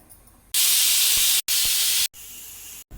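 A pressure cooker whistle venting steam while paneer biryani cooks: loud, close, harsh hissing in three long bursts separated by brief silences, the last burst somewhat softer, with no talk.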